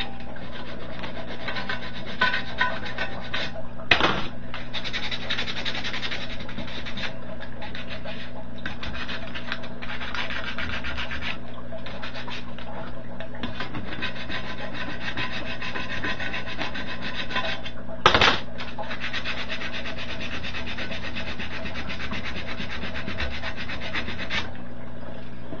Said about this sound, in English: I'm going to go ahead and sand away some of this where these screws mount